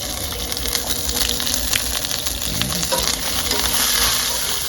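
Chopped garlic and fennel fry in olive oil with a loud, continuous close sizzle and crackle, and a brief stirring scrape partway through.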